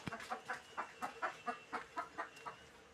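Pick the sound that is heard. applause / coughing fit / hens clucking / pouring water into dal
hens clucking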